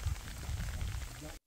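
Steady rain patters on a mountain trail in Benguet, a dense, even wash of drops with low rumble running throughout before cutting off abruptly.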